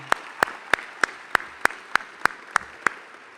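A single person claps slowly and steadily at a building dedication ceremony, about ten evenly spaced sharp claps ringing out clearly in a quiet, echoing room.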